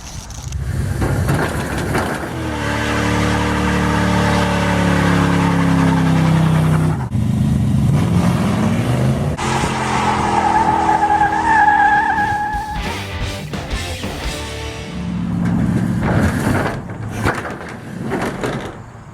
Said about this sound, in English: We have the low dollar 360 done for drag truck.